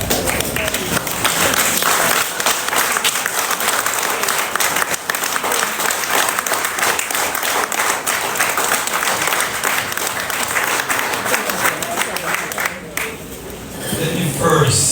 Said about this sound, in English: We have to stand up and give them the round of applause they deserve this afternoon.